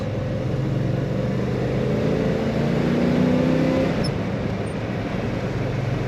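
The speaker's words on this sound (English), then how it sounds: "We're going to take off in second from a rolling stop for this traffic circle." A 1950 Ford Custom street rod pulls away in second gear from a rolling stop at a traffic circle, its engine a steady, loud, rumbling drone heard from inside that swells slightly and then eases off.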